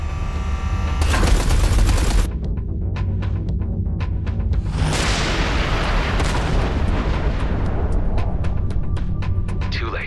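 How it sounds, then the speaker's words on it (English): Artillery fire from the space combat game EVERSPACE 2 erupts in loud, rapid bursts of booming blasts and sharp repeated shots, with a dense rumbling barrage in the middle and a voice briefly heard. "Watch out. The artillery."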